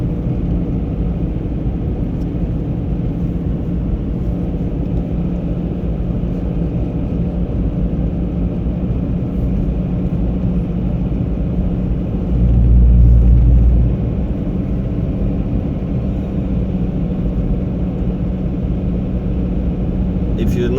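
Traffic on Highway 99 south of Lillooet in winter, a steady roadside rumble of passing vehicles that holds for the whole stretch, with one slightly louder low pass midway and no talking.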